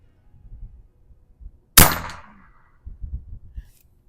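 A single sharp, loud crack from a Barra .25 caliber PCP air rifle, with a short ringing decay, set against faint low rustling before and after.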